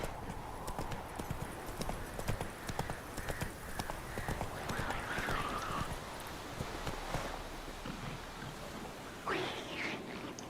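Horse hooves clip-clop steadily as a horse pulls a cart in The Witcher 3, a continuous rhythmic stream of close footfalls over a dense ambient bed, with a brief sung or vocal phrase rising near the end.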